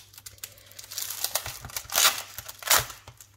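A paper card-making pack for Christmas cards is opened, its wrapping crinkling and rustling up close in uneven bursts that swell to two louder crackles.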